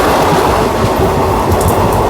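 A new weekly express train on the Narsapur to SMVT Bengaluru run rolls along with a loud, steady rumble of wagons and faint rhythmic wheel clatter, close and continuous.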